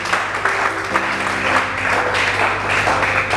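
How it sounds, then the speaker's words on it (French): A church congregation at a French-language prophetic worship service applauds and cheers loudly and continuously, a dense roar of clapping and voices with a steady hum underneath. "Acclame très fort le Seigneur."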